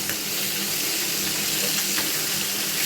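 Taki fish frying in hot oil for a traditional Bangladeshi village biran, a steady dense sizzle heard close up and continuous, with no talking.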